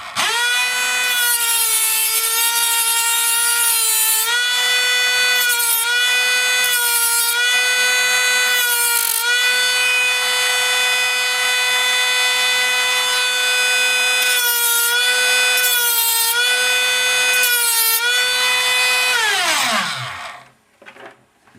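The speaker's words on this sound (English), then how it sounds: "using the metal cutting wheel, and I also use it as a grinder" A rotary tool fitted with a metal cutting wheel grinds a silverware pendant into shape, a loud, steady high-pitched whine with small pitch dips as it bites the metal, winding down at the end.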